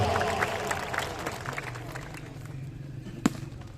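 A crowd claps at a shooting volleyball show match in Gujranwala, a modest round of scattered clapping that fades, with a low hum beneath and one sharp thump near the end.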